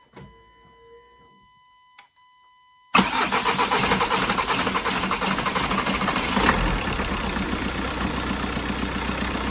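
A few faint clicks and a brief crank, then an Audi diesel engine with injector problems roars to life and settles into a loud, rough, steady idle.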